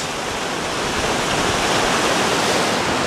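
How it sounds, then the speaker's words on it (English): Raging Tyndall Creek rushes past at full force, a loud, steady, close-up roar of churning whitewater that fills everything without letup. "It's Tyndale Creek, and it's raging super strong."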